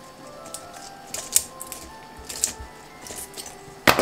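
Scissors snip at an iron wire branch for a Christmas wreath, giving several separate metallic clicks and crunches at an uneven pace, close by, over a faint background hum.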